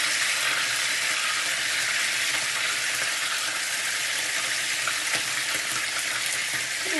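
White wine splashed into a hot pan while cooking saltimbocca, giving a steady, loud broadband sizzle and frying hiss that holds evenly throughout, close up, with no talking.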